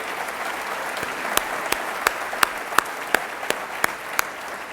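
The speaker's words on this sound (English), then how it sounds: "And giving all of these students a round of applause." Steady audience applause fills a student startup showcase at a venture and IP conference, a dense continuous patter of clapping with a few sharper, louder claps standing out near the listener.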